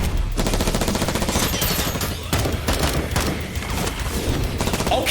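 Rapid pistol gunfire from the Viper pistols in a Death Battle animation between Excalibur and Raiden, with dense overlapping bursts and booms that stay loud and continuous throughout.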